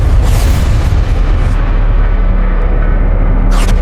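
A loud, deep explosion in the sky rolls on as a continuous heavy rumble that stays strong throughout and swells slightly near the end.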